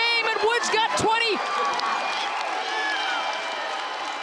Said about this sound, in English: This crowd is going nuts.